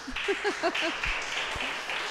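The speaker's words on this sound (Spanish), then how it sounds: "Dale un aplauso a Dios." A church congregation applauds with a soft, continuous patter of clapping while a voice speaks over it.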